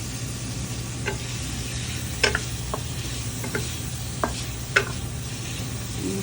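Pancit ingredients are stirred in a sizzling pan under a steady frying hiss, with a handful of sharp utensil clicks and scrapes scattered irregularly, close and moderately loud, with no talk.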